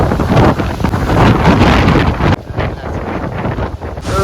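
Strong, continuous wind at Parshuram Kund blowing hard across the microphone, a loud, rough, gusting roar that briefly drops in intensity midway before surging on, with no talking.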